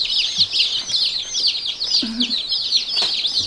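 Newly arrived baby chicks peep constantly in a high, shrill chorus, close and loud, with faint handling noises underneath.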